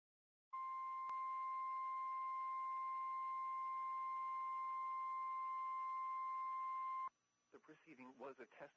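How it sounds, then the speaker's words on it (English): A National Weather Service warning alarm tone, a single steady loud pitch held unbroken for about six and a half seconds during a weekly emergency alert test, cutting off abruptly before a voice starts speaking. "The preceding was a test of the National Weather Service warning alarm tone."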